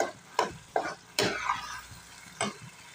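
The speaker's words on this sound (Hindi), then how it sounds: "अभी डाल दिया है हमने इसके अंदर साग, मिला लेंगे और कुछ देर चलाते रहेंगे।" Mustard greens for sarson ka saag stirred in a cooking pan, a few sharp scraping strokes and clanks over a faint, soft sizzle, close and fairly quiet.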